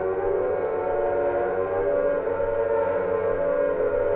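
A siren in the horror video game Silent Hill wails as a steady, sustained drone with layered tones, loud and continuous throughout with no speech over it.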